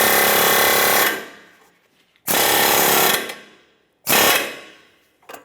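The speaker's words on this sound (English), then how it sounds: "I'm just going to use an air hammer to tap this down." An air hammer taps down a front lower control arm on a 2014-2018 Mazda 3, firing in three loud sustained rattling bursts of about a second each, separated by short pauses, close up and with no talking.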